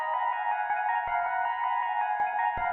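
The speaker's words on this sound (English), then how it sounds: "To really give it that ambient vibe, I'm gonna throw on a ton of reverb." Trap drum texture built in FL Studio, drenched in heavy reverb: sustained tonal ringing layers with sharp low hits punctuating at irregular intervals, washing together into an ambient wash.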